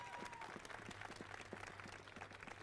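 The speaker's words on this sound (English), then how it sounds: "So can we give those 5 recipients a huge round of applause?" A small audience gives a faint, scattered round of applause for five recipients, with distant individual claps over a low hum.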